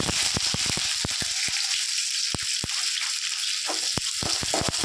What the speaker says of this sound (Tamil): கடுகு பொரிஞ்சிருச்சு கருவேப்பிலை போட்டுக்கலாம் எடுத்துட்டு வெங்காயத்தையும் சேர்த்துக்கலாம்